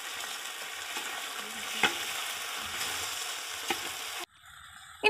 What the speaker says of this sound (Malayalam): ജസ്റ്റ് ഈ നെയ്യിൽ നമ്മുടെ അട ഒന്ന് വഴറ്റിയെടുക്കുക.